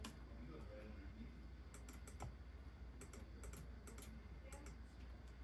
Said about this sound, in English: Okay, I'm just going spam clicking.